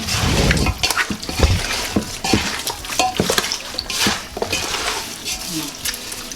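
Raw jerk chicken being mixed with black pepper and seasoning in a bowl: wet squelching, slapping and sloshing, close and fairly loud, with occasional clinks of a utensil against the dish.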